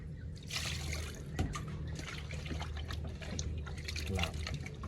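Chopped vegetables being washed in water, soft sloshing and trickling with small splashes close by while someone talks over it.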